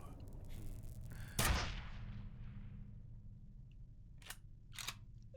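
A single sharp gunshot cracks out in the shooter game F.E.A.R., a loud broadband burst that decays over a second amid low ambient rumble, followed by two fainter clicks or impacts near the end.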